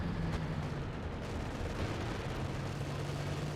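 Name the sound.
Calliope rocket artillery firing in Company of Heroes 2 video game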